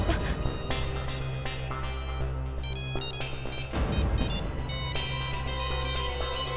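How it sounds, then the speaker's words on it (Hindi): A mobile phone rings from inside a trunk in a house, a repeating electronic ringtone melody that plays steadily throughout without talk. "देखिए देखिए, बज रहा है ये।"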